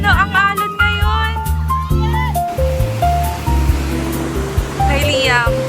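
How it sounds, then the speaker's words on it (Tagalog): Ocean surf rolls steadily onto a beach as a continuous broadband wash, with voices and tonal sounds layered over the top throughout. "Ang alon ngayon?"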